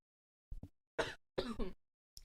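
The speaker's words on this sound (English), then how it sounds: "sorry, had a cough." A few short, close coughs and a throat clear, separated by brief silences.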